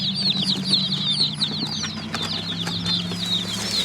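Baby chicks shipped from a hatchery peep inside a cardboard box, many high chirps overlapping constantly and close by, with light shuffling and wing flutters underneath.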